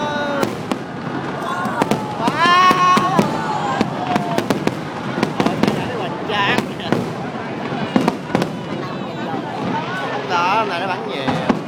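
Fireworks burst again and again at a 2015 display, loud and close, with sharp cracks and crackling amid a crowd murmuring and voices talking nearby.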